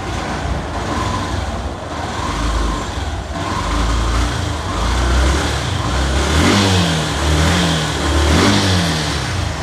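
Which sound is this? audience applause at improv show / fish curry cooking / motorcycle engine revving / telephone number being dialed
motorcycle engine revving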